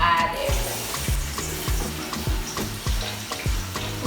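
Onions frying in hot oil in a sufuria, a steady close crackling sizzle broken by regular scraping knocks of a spoon stirring the pot, with no talking.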